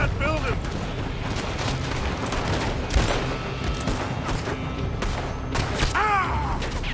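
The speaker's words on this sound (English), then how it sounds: "They're shooting from that building." Red Dead Redemption 2 gunfights crack out in scattered shots and a heavier boom near the middle, layered over a busy game soundscape with muffled voices in the background.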